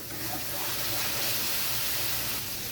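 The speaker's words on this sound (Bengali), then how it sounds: "এবার আমি টমেটোটা দিয়ে আর একটু মশলাটা ভেজে নেব।" Ginger-garlic spice paste with tomato sizzles in a pan for a duck egg curry, a steady close hiss of frying with no talk.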